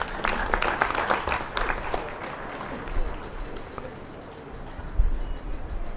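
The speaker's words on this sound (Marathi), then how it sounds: "आपण टाळ्या वाजवा." Scattered applause from an audience at a Marathi literary conference, strongest at first then thinning into sparse claps and room noise, with a sharp knock near the end.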